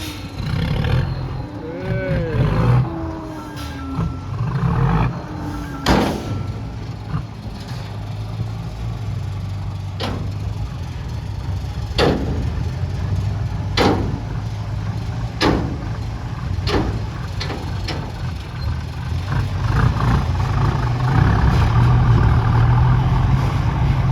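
A ten-wheel dump truck reverses to tip soil at a stream dredging site, its diesel engine a steady low rumble throughout, rising slightly toward the end, with scattered knocks and a few animal-like calls nearby.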